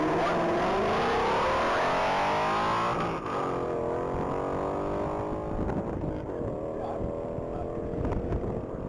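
2019 Bullet Mustang race car accelerating flat out down the Texas Mile, a loud continuous engine roar climbing in pitch through gear changes, heard from nearby with a steady high whine.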